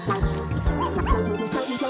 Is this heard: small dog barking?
yes